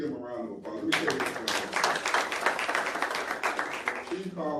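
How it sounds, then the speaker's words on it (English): An audience breaks into sustained clapping for a retired former police chief at a community gathering, a dense rattle of many hands lasting several seconds, with a voice speaking briefly before and after. "Chief Collins, yeah, please give him a round of applause."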